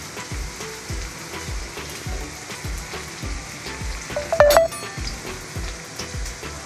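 Potatoes and onions frying in a pan give off a continuous close sizzle, with soft regular stirring scrapes and one brief louder clink partway through, and no voices.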